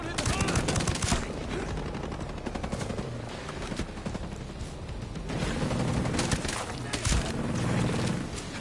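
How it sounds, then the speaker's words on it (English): Enemy gunfire in the video game Ghost Recon: loud continuous automatic weapon bursts and rapid shots rattling throughout, dense and close, with a brief lull midway. "I can't believe they're shooting so willy-nilly while I'm holding this guy."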